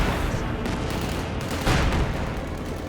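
Company of Heroes 2 match in which a Panther tank is hit by its own side's artillery and rocket fire, making a dense, continuous rumble of blasts and rapid firing throughout, loud and close, with no voices.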